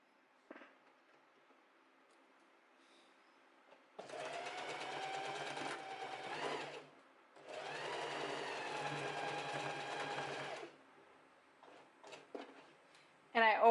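Sewing machine stitching straps into a summer dress, two steady bursts of rapid mechanical whirring a few seconds each, separated by a short pause, quiet between with small handling clicks.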